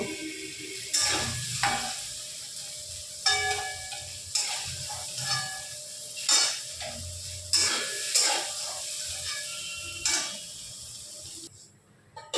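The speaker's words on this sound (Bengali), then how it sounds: "এবার হালকা করে আমরা এটা ভেজে নিচ্ছি।" Soybean chunks fry in a pan with a steady close sizzle, broken by regular scraping stirs about every second and a half.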